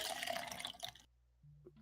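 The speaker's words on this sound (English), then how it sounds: "We heard Percival pouring from her endless decanter of coffee." Coffee poured from a decanter during a tabletop role-playing game, a short, broad liquid splash lasting about a second, followed by a brief lower gurgle trailing off.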